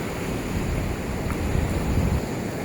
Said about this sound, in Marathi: मोठमोठ्या लाटा येत आहेत तिकडून